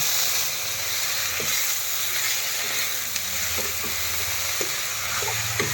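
Roselle (tenga mara) leaves fry with onion in a pan, giving a steady close hiss and sizzle with faint scraping stirs throughout.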